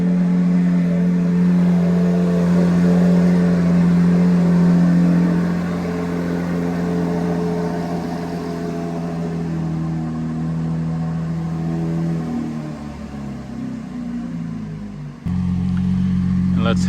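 A Lamborghini Aventador SVJ with stock exhaust idles and hums with a steady low drone, nearby and loud, settling lower midway before a brief surge near the end.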